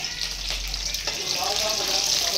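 Green chillies fry lightly in a pan for a fish curry, giving a loud, close, steady sizzle and crackle throughout.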